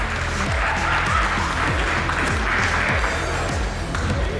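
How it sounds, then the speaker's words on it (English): A crowd applauds at a robot-fighting event in Boston, with dense, steady clapping throughout and low whirring tones repeatedly sweeping downward beneath it. "Let's give a round of applause not only to these three robots"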